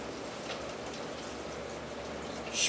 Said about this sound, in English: Then I'm going to pour in beef broth.